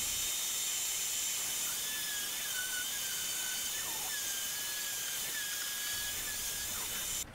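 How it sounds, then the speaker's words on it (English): Continuous high whine of a power sander running steadily against wood, its pitch wavering slightly as it moves, loud and close throughout. "So I'll sand off all the labels, just do a quick top sand"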